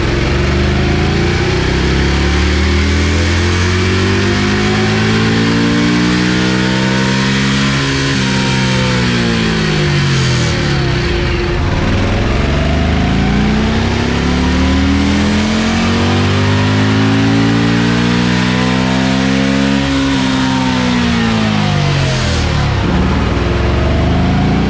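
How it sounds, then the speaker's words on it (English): A loud, close Indian Scout motorcycle engine pulls hard in fourth gear toward the rev limiter, its pitch climbing steadily in long repeated sweeps across the run, with no voices. "so we're gonna do a fourth gear run now. Fourth gear this time. And we're trying to hit that rev limiter."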